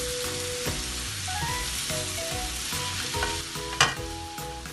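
Okra, or lady finger, fries steadily in a pan with a continuous sizzle, while a utensil stirs it in repeated scraping strokes, including one sharper clack near the end.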